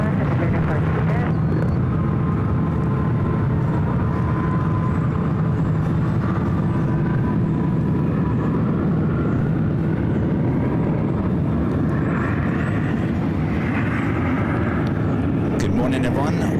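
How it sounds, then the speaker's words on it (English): A United Boeing Dreamliner jet taxis at San Francisco International Airport, its engines a loud, steady low roar swelling slightly as it moves, while people talk over it. "We've got another United Dreamliner heading to one right."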